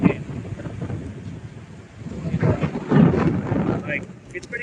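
Thunderstorm with deep rolling thunder rumbling in low swells over a noisy wash of rain and wind buffeting the microphone, loud and close outdoors.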